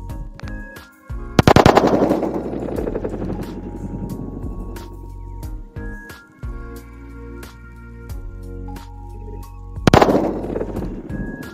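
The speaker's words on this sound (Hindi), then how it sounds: "अब करने जा रहे हैं वीआईपी बॉम्ब से धमाका इस बोतल पर।" A VIP sutli firecracker bomb set under a glass beer bottle goes off as sharp, very loud cracking blasts, one early and another near the end, with a quieter tonal hum between them.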